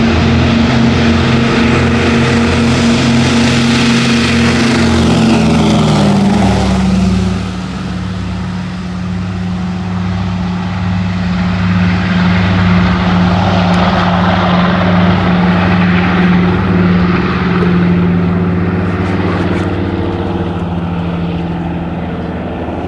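Propeller aircraft flying at the Victory Show air show, a loud continuous engine drone whose pitch drops as it passes close by, then steadies into a sustained roar.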